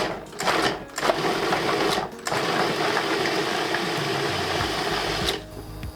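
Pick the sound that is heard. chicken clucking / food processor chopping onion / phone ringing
food processor chopping onion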